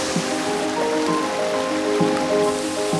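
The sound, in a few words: Veliki Slap waterfall, Plitvice Lakes, Croatia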